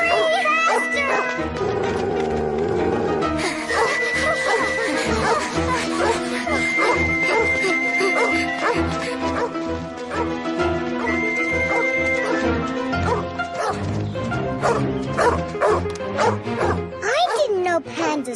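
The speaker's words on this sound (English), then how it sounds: "A wild dog!" A wild dog in the animated series Sagwa barks and yips repeatedly, mixed with excited cartoon voices shouting and background music.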